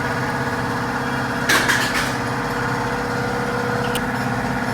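An air blower forces water out of a Suzuki Gixxer FI motorcycle during a cleaning service, a loud steady mechanical drone with a brief burst of hissing air partway through and a short sharper hiss near the end.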